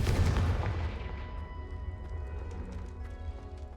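A Confringo fire spell cast in Hogwarts Legacy on PS5, heard as a sharp blast that rumbles and then decays into a fading crackling tail.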